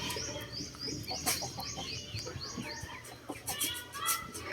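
Chickens in a backyard coop, some of them sick, cluck and chirp on and off over steady outdoor background noise, with overlapping bird calls close by.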